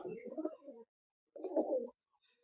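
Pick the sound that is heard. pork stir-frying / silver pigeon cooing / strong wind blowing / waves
silver pigeon cooing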